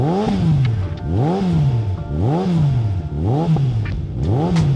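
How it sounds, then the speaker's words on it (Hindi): Suzuki Hayabusa Gen 3 motorcycle with a slip-on exhaust revving hard in five repeated blips, each rising and falling sharply, loud and close with no talking. "अपने पास एक हायाबुसा जेन 3 भी आई थी, स्लिप-ऑन की भी साउंड चेक कराते हैं।"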